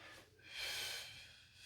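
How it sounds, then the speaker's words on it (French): A single slow inhale during a counted breathing exercise, an airy breath that swells in the middle and tapers off, heard close and alone with no talking. "7 et j'inspire."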